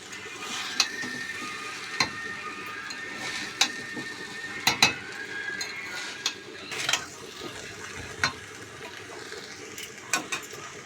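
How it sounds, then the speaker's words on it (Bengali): Fried rice with added sugar is stirred in a wok, with soft sizzling under repeated light scraping and tapping strokes, fairly quiet and close. "তো এবার ফ্রাইড রাইসের চিনি দেওয়ার পর ভালো করে নেড়ে নিতে হবে।"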